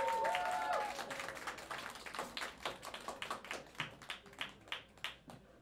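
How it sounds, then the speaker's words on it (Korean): Small crowd at a live rock show in a Seoul club applauding the band's drummer: faint, scattered claps that thin out and slow to a few separate hand claps, after a brief voice at the start. "모두 큰 박수 부탁드립니다."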